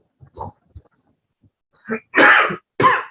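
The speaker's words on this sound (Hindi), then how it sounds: "सॉरी खांसी हो रहा है।" A few faint throat sounds, then two loud close coughs in quick succession from a teacher during a maths lesson, with silence in between.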